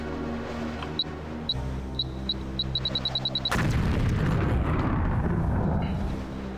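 A thrown grenade in Deus Ex gives a series of faint beeps that speed up, followed by a loud, booming explosion and a rumbling tail.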